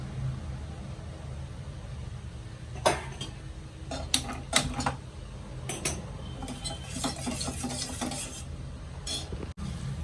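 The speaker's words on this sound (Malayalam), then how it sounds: "നന്നായിട്ട് മിക്സ് ചെയ്യാം" A spoon scrapes and clinks against a pan while a laddu mixture with ghee and cashews is stirred at home, giving intermittent metallic taps and scrapes over a quiet background.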